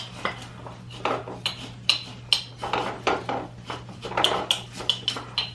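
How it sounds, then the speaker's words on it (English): Noodles being pushed down into a glass jar of freeze-dried chicken noodle soup mix with rice, giving repeated close clinks, taps and scraping rustles in an irregular rhythm over a steady low hum. "And I'm just pushing it down, the noodles, so that they can go down all the way."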